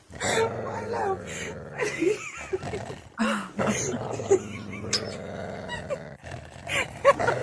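A dog growls and yips while running off with dentures, with playful snarls and whimpers mixed among laughter and talking people.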